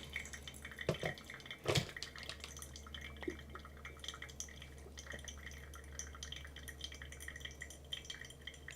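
Pour-over coffee dripping through a paper filter during drawdown, sparse irregular drips and a couple of sharper splashes over a faint low background hum, quiet and close.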